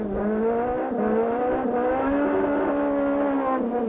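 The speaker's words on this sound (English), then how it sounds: "The whole town turned up to watch the cars blast around the 860-meter long stage." Rally cars blasting around an 860-meter town spectator stage, one engine screaming loud and close with rising and falling revs through gear changes, continuous for the whole stretch.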